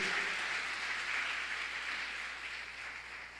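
A congregation applauds the Lord during a Pentecostal-style church service: a steady, dense roar of clapping hands that holds throughout and eases slightly toward the end, with no voices over it.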